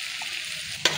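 Spices sizzle as they are tempered in hot oil for dalma, with a steady bright frying hiss and a sharp crackling burst near the end, close and fairly loud.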